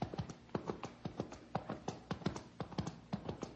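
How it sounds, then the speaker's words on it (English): Old-time radio sound effect of horse hooves clip-clopping, a brisk irregular run of close, crisp knocks repeating steadily for a few seconds with no talk over it. "It sounds like a horse."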